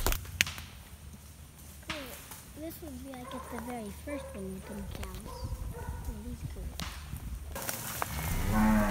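A voice makes repeated drawn-out calf-like bawling calls, imitating a calf to call cattle, with outdoor background noise and a brief rustle at the end.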